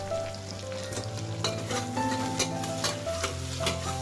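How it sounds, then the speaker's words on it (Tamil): Chopped onions sautéing in oil for a Kerala-style vegetable stew, a steady close sizzle with repeated scraping stirs of a utensil against the pan, no voices. "நல்லா வதக்கிக்கலாம்."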